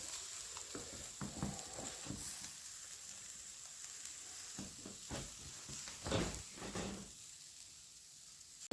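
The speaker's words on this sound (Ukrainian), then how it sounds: "так мліють грибочки в камені" Mushrooms cooking on stone inside a home fireplace give a faint, steady sizzle, with intermittent soft crackles and pops scattered through it and a brief louder flare near the end.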